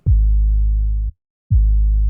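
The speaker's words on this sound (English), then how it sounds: "Made the 808 do the same thing." Two deep, sustained 808 bass notes, each starting with a short punchy attack, separated by a brief gap of silence.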